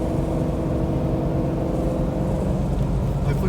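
A 1969 Shelby GT500 cruising in fourth gear around 60 mph, its engine giving a steady, loud, low rumble that holds constant from start to finish with no one speaking.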